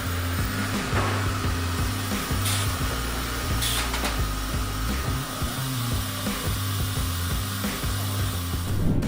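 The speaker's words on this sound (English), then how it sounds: "These modern cutting machines with precise cutting technology can create them with ease." Modern log-cutting machine sawing through wood, a loud continuous mechanical drone with a steady low pulsing rhythm and brief higher bursts as the blade bites, close and unbroken throughout.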